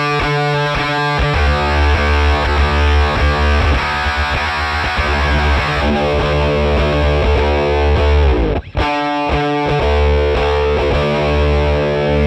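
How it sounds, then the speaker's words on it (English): An electric guitar plays through a KHDK Unicord Blood II octave fuzz pedal, a thick, heavily distorted sustained tone with an added lower octave, loud and continuous, with a brief cut before it resumes, no talking. "I really like how you can basically trigger an extra octave down with just your playing."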